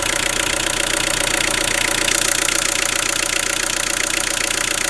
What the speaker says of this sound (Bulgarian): Двигателът работи перфектно.